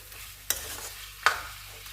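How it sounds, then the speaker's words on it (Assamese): Sour elephant apple pickle being stir-fried with jaggery in a pan, with two sharp scraping stirs against a soft, steady low background and no talking. "পাঁচ মিনিটমান ভাজিব লাগিব যাতে গুড়খিনি ইয়াৰ লগত মিলি যায়।"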